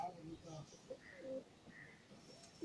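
Foreign-line racing pigeons coo in soft, low bursts at a pigeon loft in Marthandam, moderately close, with people talking over and between the calls.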